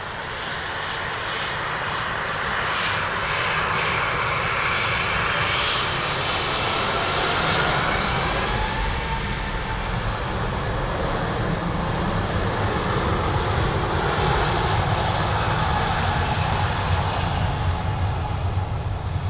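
A jet airliner lands on a runway at Dublin Airport with a loud, sustained engine roar and broadband rushing noise that holds steady and close throughout.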